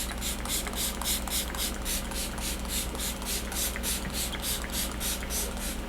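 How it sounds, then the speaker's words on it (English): A spray bottle of bronzer shimmer spray gives a long run of quick, evenly spaced spritzes, soft and close, over a faint steady background hum. "I'm going to use this bronzer shimmer spray from Hampton Sun."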